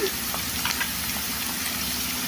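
Ginger garlic paste dropped into a pan of frying ivy gourd gives a steady, close hiss of oil that holds at an even level throughout, with no talk over it.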